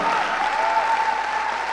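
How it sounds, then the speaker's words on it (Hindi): An audience at an event in Bihar claps for a guest, a dense, steady wash of applause from many hands, loud and continuous throughout with a faint tone running underneath. "दोस्त मैं चाहूंगा उनके लिए जबरदस्त ताली"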